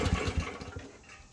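Chinese mini excavator engine running rough after a choke start, a short burst of uneven low chugging that fades slightly.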